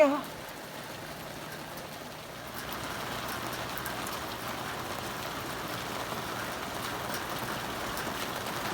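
Steady rain falls during a British Columbia wildfire season, making a soft, even hiss of drops on surfaces that stays constant and fairly faint throughout.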